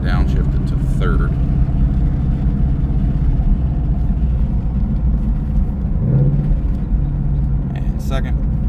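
Ford Mustang Dark Horse with a Corsa Xtreme exhaust downshifting into third, a loud, steady low engine rumble and drone, close to the microphone, with a brief rise in pitch near the middle.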